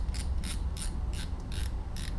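Fishing reel being cranked by hand while it is cleaned, a close, steady ticking and whirring of gears with six evenly spaced ratcheting clicks over a low mechanical rumble.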